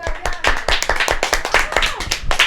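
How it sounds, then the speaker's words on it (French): Sharp, close handclaps ring out in a small group for a quiz contestant on a radio show, distinct individual claps in a quick irregular rhythm, loud and near. "je pense qu'on peut faire des applaudissements pour Monsieur Octavian"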